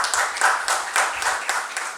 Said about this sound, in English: Don't clap so soon